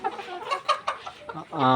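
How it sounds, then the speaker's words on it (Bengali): A few short, close clucks from chickens in a layer farm, then a boxed rooster breaks into a loud, ringing call at the end. "আমার খামারে 2টা মোরগ আছে, এখানে একটা আর এই পাশে এইখানে একটা।"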